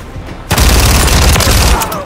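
Fennec 45 submachine gun fire in Call of Duty MW3 Domination on the Highrise map bursts in abruptly after a quieter lead-in, a loud, fast continuous stream of shots with heavy low-end boom, close and sustained to the end.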